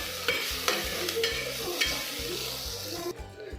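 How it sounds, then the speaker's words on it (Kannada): Cumin and pepper with coconut stirred in a pan while frying for a horse gram bassaru palya, with steady scraping strokes over a continuous sizzle and a quieter pause near the end. "ಇದರಲ್ಲಿ ಸ್ವಲ್ಪ ಜೀರಿಗೆ ಪೆಪ್ಪರು ಹಾಕೊಂಡು ಚೆನ್ನಾಗಿ ಮಿಕ್ಸ್ ಮಾಡ್ಕೊಳ್ಬೇಕು"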